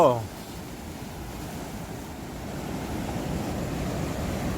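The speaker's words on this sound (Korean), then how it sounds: "파도가 좀 무섭습니다" Ocean waves without a breakwater wash in as a steady, low roar of surf that swells gradually louder toward the end, briefly preceded by a short human vocal sound at the start.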